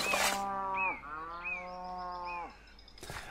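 A cow lowing in a forest, two long, drawn-out moos with a steady tone, fairly close and clear, with brief rustling noises at the start and end.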